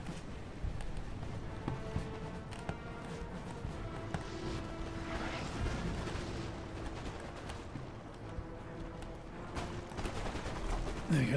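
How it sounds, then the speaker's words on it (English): Musket and cannon fire from a Napoleonic battle in the strategy game Napoleon Total War, a dense, continuous rumble of distant volleys and booms with scattered sharper shots, steady and loud throughout. "Lots of gunfire into their gun teams."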